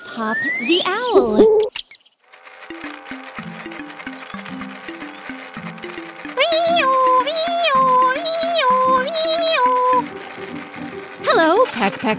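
A cartoon owl hooting in a children's animation: a voice speaks briefly at the start, then repeated, wavering hoot-like calls ring out over a bouncy plucked tune.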